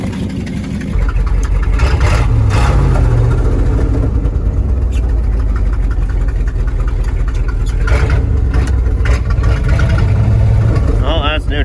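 A Ford Highboy truck, just cold-started in a snowbank, runs with a loud, steady, rumbling engine close by, and voices can be heard over it.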